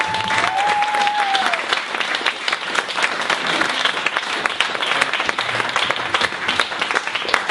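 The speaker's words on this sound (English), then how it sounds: "to give a big round of applause as we begin the final scene" Dense audience applause at a live comedy festival performance in Hull fills the room steadily, a thick continuous wash of clapping from a crowd with no break for the whole stretch.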